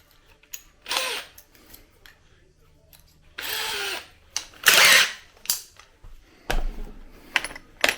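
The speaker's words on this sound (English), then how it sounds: "Here we have the drill." A power drill boring into wood whirs in several short bursts, whining up loudly and stopping between runs, with small clicks and handling noises in the gaps.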